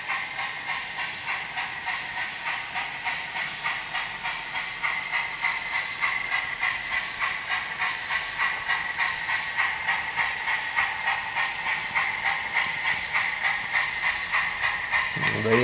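A Hornby Franco Crosti 9F model steam locomotive with TTS sound runs along the track. Its rhythmic chuffing beats pulse steadily and gradually quicken, with a faint clatter of wheels and wagons.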